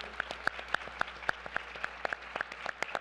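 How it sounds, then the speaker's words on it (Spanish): Applause from an audience at a forum on inclusion, a dense wash of many hands clapping steadily with regular louder claps standing out, fairly close and sustained with no talk over it. "Fuerte aplauso también."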